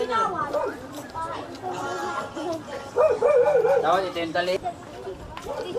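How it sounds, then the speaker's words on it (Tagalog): Dogs barking and yipping amid steady chatter along a rocky trail up toward a huge dam in the Philippines, the barks mixed in with talk and close by. "yung mga aso."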